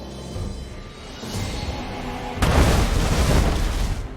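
A naval fleet fires cannons at a ship in the Anno 1800 game: a sudden heavy booming volley erupts after a quieter stretch of ambient game sound, rumbling loudly and sustained to the end.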